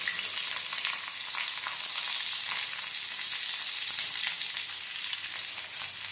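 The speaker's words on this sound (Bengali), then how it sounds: "আমি যে দিকটা ভাজাতে সেই দিকটাই আমি এরকমভাবে উল্টে দিয়ে দেবো চাটুর উপরে" Prawn paturi wrapped in leaf parcels fries on a hot griddle with a steady, close sizzle. The dense crackling hiss runs evenly throughout, with no talk.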